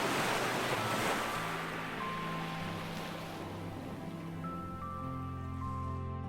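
Ocean waves crash and wash continuously behind a family on a beach, a broad steady surf roar with some wind noise over the microphone and faint tonal hum, with no talking.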